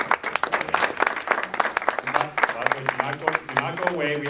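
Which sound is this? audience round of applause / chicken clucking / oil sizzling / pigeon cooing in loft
audience round of applause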